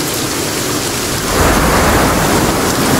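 Heavy rain hisses steadily in a Sons of the Forest thunderstorm, with a low thunder rumble swelling partway through and the downpour growing louder and denser afterward.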